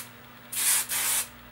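Two close hissing bursts of hairspray from an aerosol can, the second slightly longer, with a brief pause between them.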